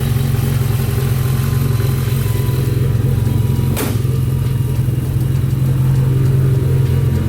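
A Mitsubishi Lancer Evolution X engine idles with a deep, throaty ETS aftermarket exhaust rumble, steady and close, with a brief sharp pop partway through.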